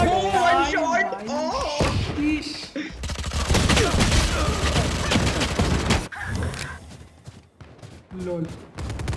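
Gunfire from the shooter game Valorant comes as dense, rapid bursts of shots with thuds, loud and close, mixed with excited talking throughout.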